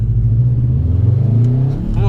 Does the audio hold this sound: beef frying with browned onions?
no